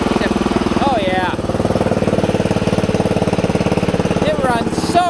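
A 1970s lawn mower engine runs with the choke off, a loud, close, steady rapid chugging throughout, with a person speaking over it now and then.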